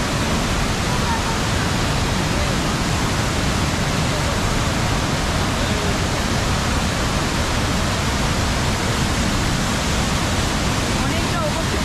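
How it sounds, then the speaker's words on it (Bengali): Heavy water falling from a great height at Borhill waterfalls makes a dense, unbroken roar, loud and close, filling the whole moment. "অনেকটা ওপর থেকে জলটা পড়ছে নিচে, আর প্রচুর জল"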